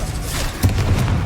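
In Hogwarts Legacy, a Confringo fire spell goes off as a loud, deep booming blast with a heavy thump, short and up close.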